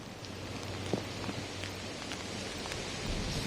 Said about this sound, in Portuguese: A gente está vendo aí que a chuva aumentou bastante, né?